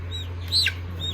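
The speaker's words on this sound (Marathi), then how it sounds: "कोंबडा आहे का कोंबडी?" A young chicken gives a single short, high cluck close by, set against a steady low hum.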